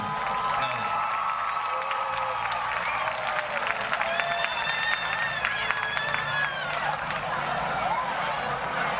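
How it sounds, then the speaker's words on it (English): A stadium crowd at a high school football game, San Angelo Central Bobcats at Waco Lions, claps and cheers in a steady, dense wash of applause, with a public address voice sounding over it. "Let's give a big round of applause for Stephen Talley."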